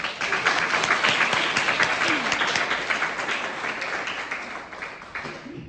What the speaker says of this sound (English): Can we please give a round of applause for Dr. Rebecca Levy?